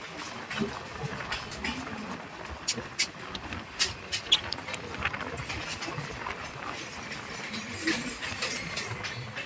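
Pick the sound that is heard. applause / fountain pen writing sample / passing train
passing train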